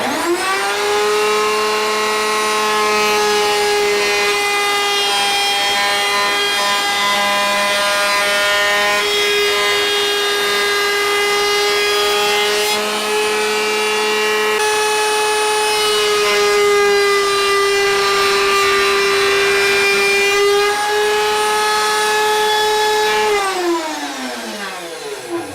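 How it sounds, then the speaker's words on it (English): A table router spinning up and rounding over the edge of a wooden shot glass flight board in a workshop, a loud sustained high whine with a steady pitch for over twenty seconds before winding down at the end. "next we're just going to round it over with the table router here."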